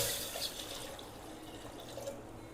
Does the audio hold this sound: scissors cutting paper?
no